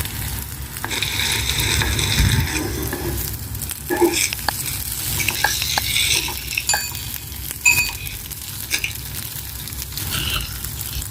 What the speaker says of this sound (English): Fry the kebab both sides 2 to 3 minutes enough.